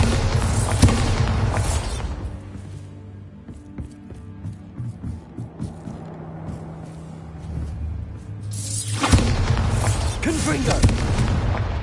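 Bombarda explosion spells cast in Hogwarts Legacy: loud booming blasts burst at the start and again near the end, with a quieter rumbling, crackling stretch between them.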